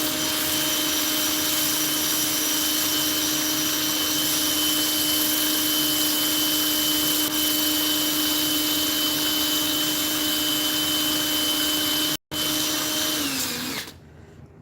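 A rotary tool grinds, rounds and bevels a simple metal ring for jewelry, a steady high-pitched whine running loud and continuous with a brief cut-out near the end before spinning down.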